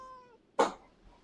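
A short meow from a cat in Genshin Impact, a brief harmonic cry followed by a louder, noisy burst, quiet and close with no talking.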